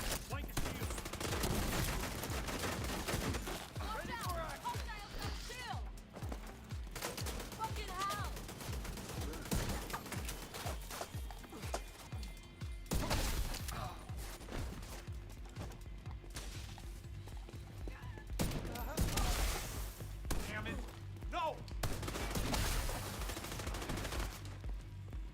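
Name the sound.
rifle shots from the Virginian 1886 in The Division 2 video game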